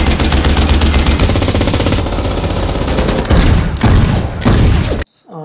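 Gunfire sound effect from the climax of a Tamil action film: dense, loud, continuous machine-gun bursts with heavy booming impacts, sustained for several seconds before cutting off abruptly.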